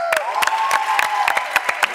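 In a TV variety show studio, the audience claps in a steady rhythmic beat, sharp evenly spaced claps sounding under a held cheer and crowd voices.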